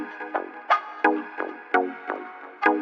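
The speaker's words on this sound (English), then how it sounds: "With my guitar and plucks together, they sound something like this." In a bhangra music production, a guitar riff is layered with pluck synth chords: a steady run of short, bright plucked notes with quick decays, each note distinct and evenly spaced, moderately quiet, with no talking.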